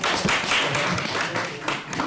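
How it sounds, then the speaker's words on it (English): Comedy night crowd responds with sparse, mixed clapping, loose irregular hand claps over a busy background of audience chatter and voices. "Clap if you don't think Oprah's evil."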